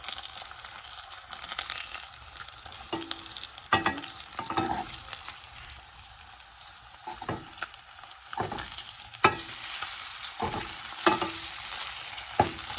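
Steady crackling sizzle of pork belly frying in a pan, with occasional louder pops and scraping clatter from stirring.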